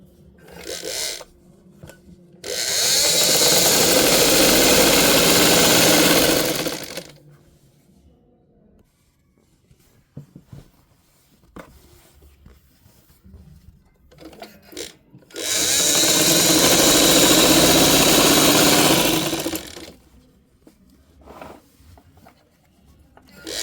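A sewing machine stitches fabric during cloth cover making, two loud sustained runs of steady whirring of about four to five seconds each, separated by quieter handling noises.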